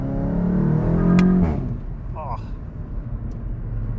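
A 2016 VW Golf GTI Clubsport with a free flow exhaust: the engine climbs in pitch under acceleration, peaks and drops off sharply, then falls back to a quieter rumble with road noise.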